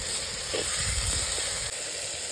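Tomatoes and onions sauté in a pan with rock salt, giving a steady, close hiss and sizzle throughout. A few soft stirring bumps sound underneath, and nobody speaks.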